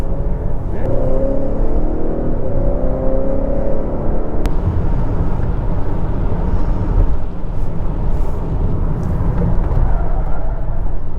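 A 2022 Honda Accord Sport with its 2.0T engine accelerates while being driven briskly, giving a steady loud engine and road drone heard from inside the car, with a rising pitch early on.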